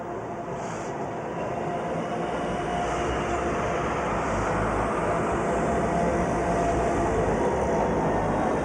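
A train in the Swiss Jungfrau region rumbles steadily along the track, a continuous broadband roar that grows slightly louder over several seconds with no voices over it.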